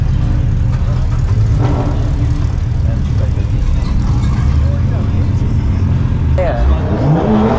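American Chevy engine revving at a car meet outside a coffee shop, a loud, throaty roar sustained throughout, close by, with excited voices talking over it.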